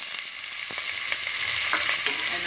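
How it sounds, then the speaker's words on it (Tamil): Onions fry in hot oil with cinnamon and cloves for a chicken curry, giving a steady, close sizzle. Occasional light clicks of stirring break through, and no one speaks. "பட்டை கிராம் கொஞ்சம் ஃப்ரை ஆகட்டும் நம்ம வந்து வெங்காயம் சேர்த்துக்கலாம்"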